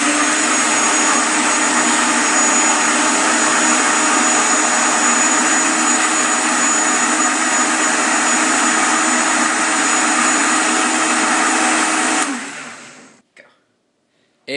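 Blender whirring loudly as it mixes a milkshake with sugar, a steady high-pitched motor roar held for about twelve seconds before spinning down and stopping abruptly, with a faint knock after.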